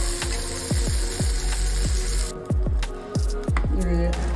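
Tomatoes sautéing in a hot pan for onion coconut chutney give a steady close sizzle, with a run of soft rhythmic squishing scrapes as they are stirred about, loud and continuous throughout.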